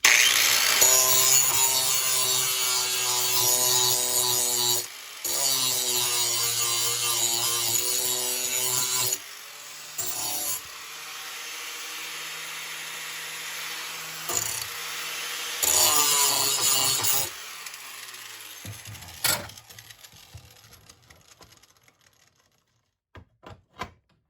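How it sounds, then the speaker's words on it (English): An angle grinder putting an edge on a metal part clamped in a vise on a Toro machine with a Tecumseh engine, a loud harmonic whine in several long bursts with short pauses, then spinning down and ending in scattered clicks. "Take my angle grinder, just gonna put an edge here."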